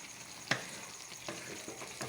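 Bottle gourd and chicken wings sautéing in a pan with fish bagoong, giving faint sizzling with a sharp clack of a utensil and a few soft stirring scrapes, alone without talk.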